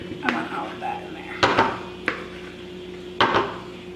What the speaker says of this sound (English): Just scrape the edges clean of the cinnamon because I want all of that in there.